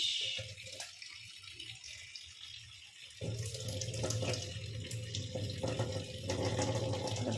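Running water rinses foam off chhana (cottage cheese), a steady tap stream that grows fuller and louder partway through, with no talking.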